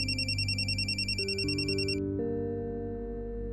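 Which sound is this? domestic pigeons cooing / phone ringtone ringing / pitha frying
phone ringtone ringing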